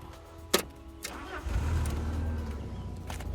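A Fiat Barchetta convertible's engine, with a couple of sharp clicks before it catches and settles into a low, steady idle rumble close by.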